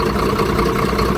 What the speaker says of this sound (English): Now, if I actually put it down here, you can hear that the engine's hunting.